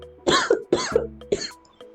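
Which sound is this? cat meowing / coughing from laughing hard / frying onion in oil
coughing from laughing hard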